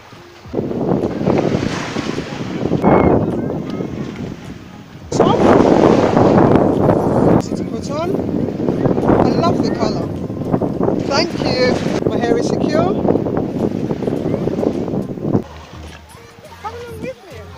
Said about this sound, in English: I'm in Browns Beach.